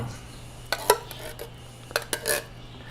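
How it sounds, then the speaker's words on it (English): Canned apple pie filling going into a cast iron skillet: scattered metallic clinks and scrapes of a spoon against can and pan, several sharp close knocks spaced irregularly over a low hum, without talk. "I'm putting them right here in my cast iron skillet."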